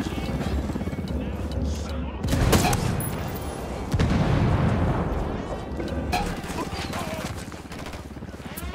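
Sustained gunfire and explosive blasts from Ghost Recon combat, loud and dense with bursts throughout, under shouted squad voices amid a chaotic firefight.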